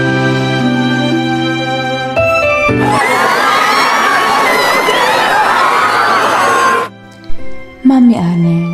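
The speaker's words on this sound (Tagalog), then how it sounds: "wala akong ibang narinig kundi ang mga hiyawan, sigawan at pagpanik ng mga tao" Crowd of people shouting and screaming in panic, a loud chaotic burst of overlapping cries that swells after a brief lead-in and cuts off near the end, followed by a few sparse voices.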